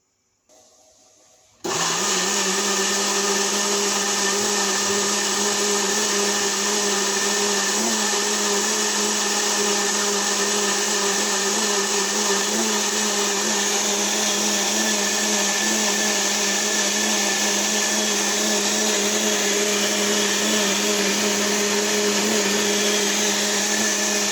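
A Chefman blender whirs steadily and loudly, blending strawberries into a smoothie. It kicks in after a brief quiet start and runs without pause to the end.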